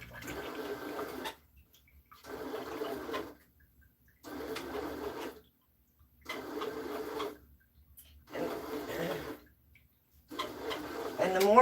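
A stand mixer or bread machine kneads homemade pan pizza dough in a home kitchen, giving five evenly spaced bursts of rumbling, thumping motor noise with short quiet gaps between them, fairly close.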